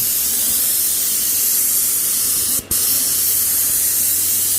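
Steady, loud hissing spray of a VEVOR 750W airless paint sprayer on 100 feet of line runs continuously, with one brief dip and pop partway through as the pressure drops.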